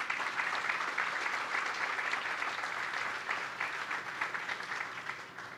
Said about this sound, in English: I'd like to please a round of applause for the Veterans Collaborative